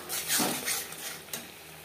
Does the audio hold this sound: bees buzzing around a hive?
no